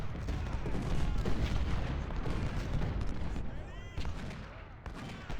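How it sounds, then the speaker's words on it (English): Volley gunfire crackles in Ultimate General: Civil War as infantry fire on a wall at Second Bull Run: dense, rolling musketry and booms layered over one another, moderately distant, with a voice speaking over the battle. "Now everybody fire on the wall."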